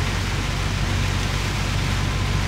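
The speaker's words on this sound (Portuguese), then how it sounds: "Mais chuva que Deus manda" Heavy rain in Araguari, Minas Gerais, a steady, dense wash of broadband noise with a deep low rumble, loud and unbroken throughout.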